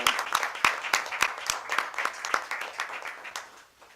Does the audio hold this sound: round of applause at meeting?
yes